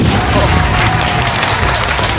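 Audience giving loud applause to welcome a guest named Mr. Hoffman onto a stage, a dense, close, continuous wash of clapping throughout.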